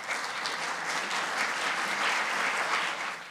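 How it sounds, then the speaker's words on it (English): Audience at a lecture on history education, race and national identity applauding the introducer, a dense, steady round of clapping from many people for a few seconds. "Please give him a round of applause."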